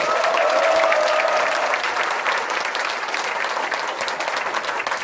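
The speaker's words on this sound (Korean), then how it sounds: "힘찬 박수로 시작하겠습니다." Loud, steady applause from a crowd at the founding general assembly of the Gyeongbuk Labor Human Rights Center, filling the whole stretch and easing slightly toward the end.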